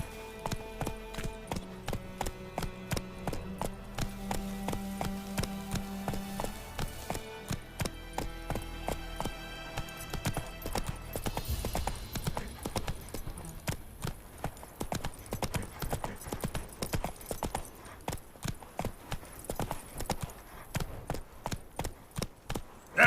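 Roach, the horse in The Witcher 3: Wild Hunt, gallops in steady rhythmic hoofbeats under game music, the clip-clop growing sharper and more prominent in the second half.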